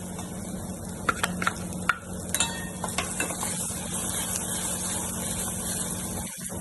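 Ground masala paste for Kolhapuri chicken rassa being sautéed over medium flame, with a steady sizzle and a run of spoon scrapes and taps against the pan, fading into continuous frying.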